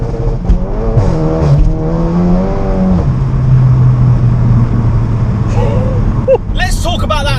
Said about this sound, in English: A Scorpion full exhaust system on this that genuinely sounds phenomenal on the red line.